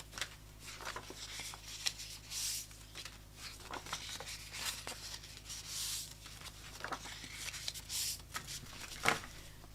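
Paper envelopes for long slimline cards are folded by hand, giving soft close rustling, creasing and sliding sounds in irregular bursts, quiet throughout.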